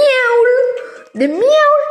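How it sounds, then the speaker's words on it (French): A cat meows twice in a video game, the first call long and drawn out and the second rising after a brief dip, loud and close. "Des miaules."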